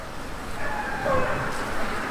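Dogs at an outdoor dog run in a city park bark and yip faintly in the distance, brief scattered calls blurred by broad ambient noise.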